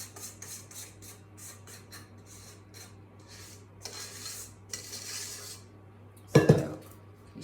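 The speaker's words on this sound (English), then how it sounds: "I'm going to give this a scrape down because I've got that in there" Spatula scraping down blackberry meringue mixture inside a mixing bowl: a run of brisk, close scrapes and rubs, then a louder knock or clatter against the bowl near the end.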